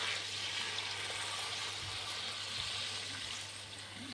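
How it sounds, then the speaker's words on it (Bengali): Roughly a litre of water poured into a pot of vegetable khichdi on the stove, a steady broad rushing splash that holds even and continuous throughout, close and moderately loud, with no talking. "1 লিটার মতন জল দিয়ে দিচ্ছি।"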